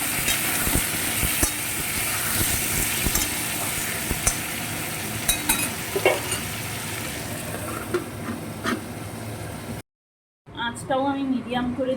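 Elephant foot yam stalks, prawns and potatoes with salt and turmeric sizzle steadily in a pan, with scraping stir clicks throughout; a brief gap is followed by a voice over the quieter cooking.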